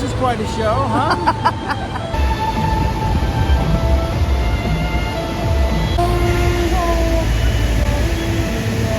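A vintage train runs on the Flam Railway in Norway, a steady rumbling roll with squeals and metallic tones from the cars, heard from inside among a murmur of passengers talking.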